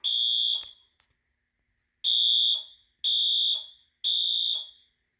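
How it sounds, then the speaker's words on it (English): A fire alarm horn strobe sounds during a system test, giving four loud, shrill, evenly spaced blasts of about half a second each, separated by short gaps, with no talk over it. "There's the horn strobe"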